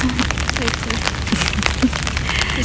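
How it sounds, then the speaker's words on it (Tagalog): Steady rain patters on a surface throughout, a dense continuous hiss with scattered drips, while voices murmur faintly underneath. "Inubutan po kami ng ulan"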